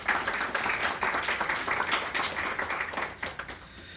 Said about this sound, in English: Another round of applause for Francisco de la Lama.